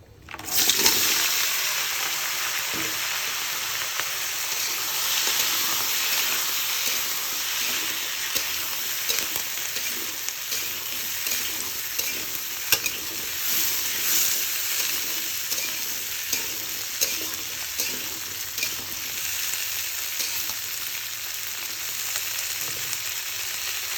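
Beans, cauliflower, potato and green chillies dropped into hot oil, a sharp burst of sizzling at the start settling into a steady, close frying hiss with intermittent stirring scrapes and clinks throughout.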